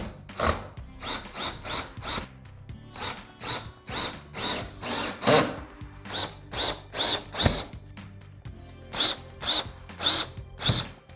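A power drill drives sheet metal screws into an air purifier's wall mounting plate in a series of short, close, whirring bursts separated by brief pauses, with no talking.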